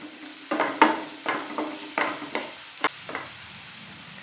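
Dried red chilies and ginger fry in hot oil with stirring, giving a series of short sizzling bursts and scraping strokes, close and moderately loud, fading toward the end.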